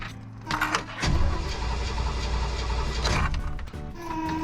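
The engine of a 1968 Chevrolet Impala is short on fuel and cranks without starting, a close, loud mechanical grinding from the starter that runs for a few seconds, stops, then briefly resumes.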